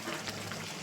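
Mutton frying in a kadai wok on a lowered gas flame, its lid just lifted, gives a steady, close, broadband sizzle and crackle for under a second with no voices.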